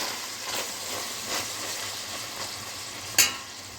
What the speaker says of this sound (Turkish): Kendi yağında kendi suyunda kavrulmaya bırakıyoruz